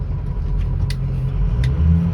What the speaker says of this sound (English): Like I said, the turbo is spooling up nicely.